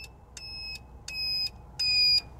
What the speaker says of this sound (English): turn signal alarm, alert, warning.